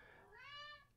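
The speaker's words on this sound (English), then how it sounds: "my cat's yelling at me" A cat lets out a single drawn-out, rising yowl, faint and close, heard alone.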